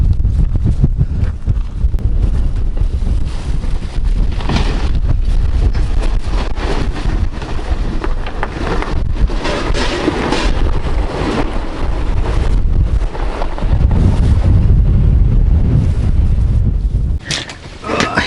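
Strong blizzard wind in Yakutia roars and buffets against the microphone in heavy, continuous gusts, with a brief lull near the end.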